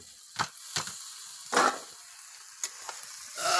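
Short bursts of sizzling and frying in a pan on a village clay stove, several separate hisses with quiet gaps, as spinach is stirred in hot oil with fried prawns.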